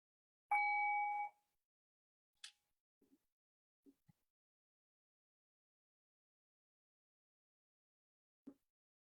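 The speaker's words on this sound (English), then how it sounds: "I'll ring the bell and I'll move us through this practice." A meditation bell rings once at the start of a guided meditation at a dharma talk, a clear sustained tone fading within a second, followed by a few faint soft clicks in near silence.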